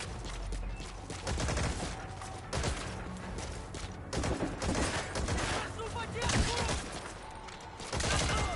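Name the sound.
gunfire and mortar fire, Metal Gear Solid V video game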